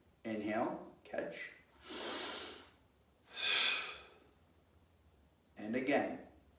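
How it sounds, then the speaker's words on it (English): Sanchin karate breathing practice, with a series of strong audible breaths through the nose and mouth, alternating short and long inhales and exhales, close and clear with quiet pauses between them. "So we open our hands, inhale, and then this is back to inhale, catch"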